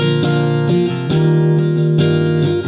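A sustained guitar part with steady held notes and a few chord changes, bright and full, played alone with no voices.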